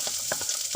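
Onions frying in coconut oil, a steady close hiss with a few soft bursts of crackle over less than a second.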